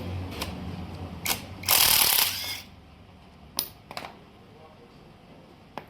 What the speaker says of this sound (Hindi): ये 4 बोल्ट खोलने के बाद हमें इसका 14 नंबर का बोल्ट खोलना पड़ेगा, गियर चेंजर का।